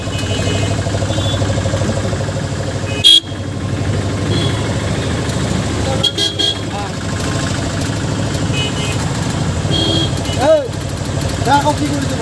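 Busy street outside Dhemaji Civil hospital, with autos and motorbikes idling and revving close by, a few passing whines and horn-like toots, while a person talks over the traffic.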